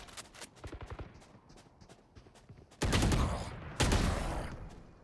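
Rapid gunfire bursts from a video game match, a quick series of sharp shots followed by two heavy, loud blasts that ring out and decay, with a player talking faintly in between.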